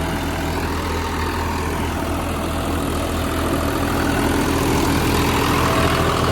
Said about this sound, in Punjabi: ਚੱਲਦਾ ਤਾਂ ਬਈ ਬਿਲਕੁਲ ਸਹੀ ਆ ਗੇੜੇ ਵੀ ਬਿਲਕੁਲ ਸਹੀ ਆ ਟਰੈਕਟਰ ਦੇ